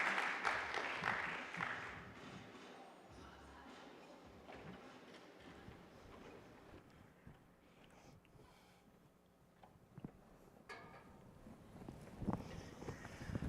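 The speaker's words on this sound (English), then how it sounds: "So let's give them a round of applause." Audience applause at a Reuters conference session on technology, a broad wash of clapping, strongest at the start, thinning through the middle and swelling again near the end.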